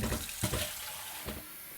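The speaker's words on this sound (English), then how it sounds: "I just stand up, run my water" Tap water runs into a sink in a home kitchen, a close, steady rushing splash with a couple of brief louder bursts, no talk over it.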